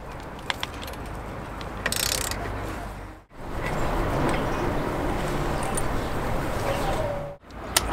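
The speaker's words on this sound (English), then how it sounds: "Next, undo this mounting bolt. You need a socket of size 12." Socket wrench with a 12 mm socket undoing a motorcycle rear brake caliper mounting bolt, a steady run of ratcheting clicks, close and loud, broken by two brief pauses, with someone speaking over it.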